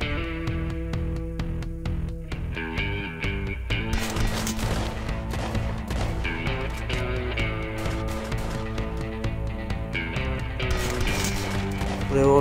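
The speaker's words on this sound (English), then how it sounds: "Revolver does less damage than rifles, but I can shoot fast using this revolver." Rapid revolver shots ring out in the Dirty Revolver game, a quick series of sharp cracks early on, then heavier bursts of gunfire and crashing mixed with music-like tones.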